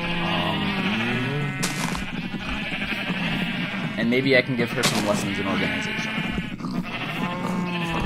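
Sheep bleat on a small farm in a video game, with several short, wavering cries scattered across the scene while a person talks over them.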